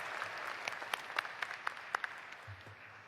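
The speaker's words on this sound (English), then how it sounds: "give Professor Twiner and the Tougaloo College Concert Choir another round of applause for that stellar performance" Audience at a college commencement applauds, a faint, distant wash of clapping with a few sharper individual claps standing out, steady for about three seconds before tapering off.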